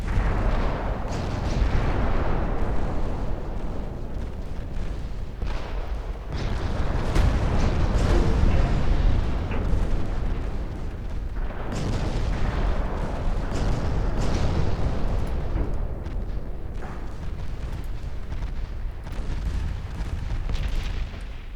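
Naval artillery in the warship game Ultimate Admiral Dreadnoughts booms continuously, heavy overlapping gunfire and explosions rolling without pause in a dense, loud barrage.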